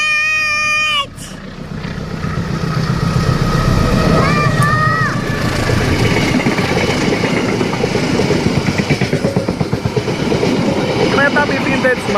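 A vintage locomotive hauling cargo wagons rolls past close by at a railway line, its engine roar and rhythmic wheel clatter sustained, while people chatter and exclaim over it.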